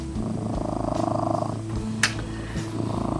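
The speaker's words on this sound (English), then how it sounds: "Can you hear him purring?" Close, steady purring from a cat, a low rhythmic rumble running through the whole stretch with a short sharp click partway through.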